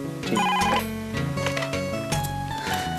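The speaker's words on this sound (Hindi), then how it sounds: "मिठू फोन त खण कंहिंजो आहे।" A telephone ringing indoors in a Sindhi drama, a loud electronic ringtone with a bright melodic pattern repeating twice, close and without voices.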